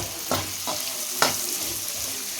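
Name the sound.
mixing chicken egg fried rice in a pan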